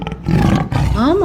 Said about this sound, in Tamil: ஆமா குட்டீஸ், அது புலிதான்